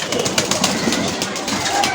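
A pigeon gives a soft, low coo nearby, brief and muffled against a steady rainy outdoor background.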